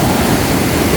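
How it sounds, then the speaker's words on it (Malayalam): Lidder river snowmelt rushes past loud and close as steady, dense roaring water at a wooden footbridge on a Kashmir trek, continuous and without voices. "വെള്ളത്തിൻ്റെ ഒഴുക്ക് കണ്ടോ?"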